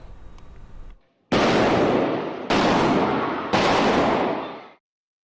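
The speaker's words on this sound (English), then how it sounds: "We want to warn you that the sound of these gunshots is jarring." Three loud, sharp rifle gunshots in quick succession inside a church, each ringing out with a long echoing decay, following a brief quiet moment after faint background noise.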